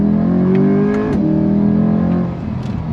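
A 2023 Chevrolet C8 Corvette accelerates hard under full throttle, its engine roaring loud and close with a rising pitch that drops at a quick gear change about a second in, then climbs again.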